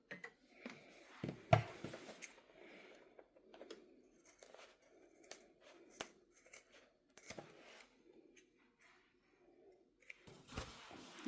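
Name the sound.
scissors trimming seam allowance of zipper clutch bag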